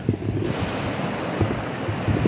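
Sea waves surging on the coast of Northern Samar, a continuous loud roar of surf mixed with heavy wind buffeting the microphone, with no talking.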